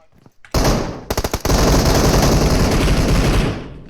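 Dense automatic gunfire from the PUBG Mobile video game: a short burst, a few quick single shots, then a long sustained rattle of rapid shots, loud and close, fading at the end.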